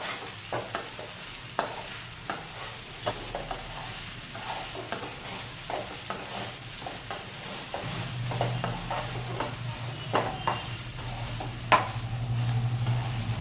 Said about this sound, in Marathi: आता हे शाबू ह्यात घालायचं गॅस मोठा करून चांगलं भाजून घ्यायचं